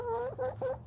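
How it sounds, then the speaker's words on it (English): Chickens cluck close by in a quick run of several short, nasal calls at a steady rhythm, with no speech over them. "I love these chickens so much"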